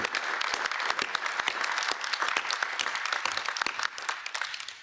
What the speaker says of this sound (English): ask for a round of applause